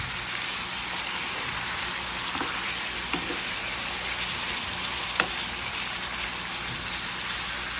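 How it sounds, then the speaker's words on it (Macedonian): Minced meat fries in a pan with a dense, even sizzle throughout, broken by a few faint clicks of stirring, with no voices. "ќе го искржиме месото мелено"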